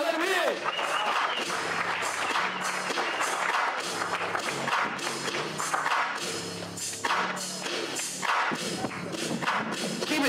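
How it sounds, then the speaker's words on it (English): A comedy club audience in Houston applauding comedian Justin Thompson, with sustained dense clapping and cheering that runs throughout while a host's amplified voice talks over it. "Put your hands together."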